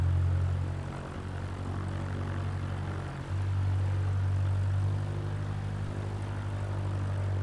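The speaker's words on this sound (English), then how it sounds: "this is another plane that I'm able to hear and, like, watch taxi." A simulated propeller airplane taxiing at Burbank airport in Microsoft Flight Simulator, a steady droning engine hum with a low tonal buzz, continuous and close, with a brief dip partway through.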